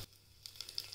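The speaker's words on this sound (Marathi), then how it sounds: "जिरं तडतडलं आहे" Cumin seeds crackle in hot oil in a home kitchen, faint crisp pops and a light sizzle beginning after a quiet start.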